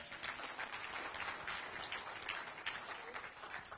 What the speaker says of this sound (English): Clap if you understand this, right?